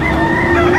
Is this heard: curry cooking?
no